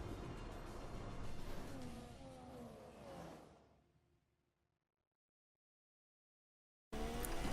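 F1 2016 race car on the Chinese Grand Prix circuit in the rain, a loud engine roar with shifting pitch that fades away to silence, then cuts back in abruptly near the end.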